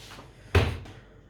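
A kitchen cupboard unit shuts with a single sharp, close thump midway through, after a softer faint rustle and surrounded by quiet room tone.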